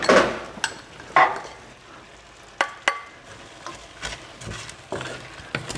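A spoon stirs crushed gratons through an onion, tomato and chili sauce in a pan, giving repeated sharp scrapes and knocks at an irregular pace over a low, constant sizzle, close and without speech.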